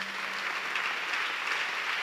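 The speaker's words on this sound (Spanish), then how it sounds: "Usted quiere darle un aplauso al Señor." A church congregation applauding, with dense, continuous clapping from many hands filling the room at an even level.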